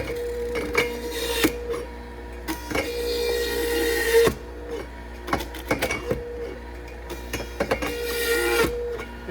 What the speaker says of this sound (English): So you can see that it's just going to push right through the machine.